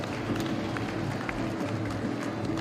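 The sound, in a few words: audience clapping in a watched fight film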